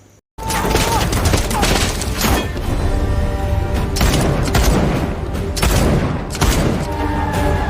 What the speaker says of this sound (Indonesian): Baku tembak pun terjadi di antara kedua kubu